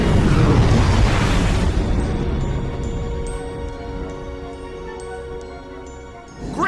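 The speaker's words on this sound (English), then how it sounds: "They make it out before the planet explodes." Planet exploding in a science-fiction film, a huge roaring blast that starts loud and slowly rumbles away over several seconds, leaving faint electronic tones and beeps, with a fresh burst of noise at the very end.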